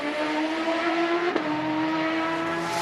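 A Champ Car open-wheel race car screams past at speed during qualifying at Denver, its high engine note steady and loud throughout, with a brief sharp blip midway as it fights for grip.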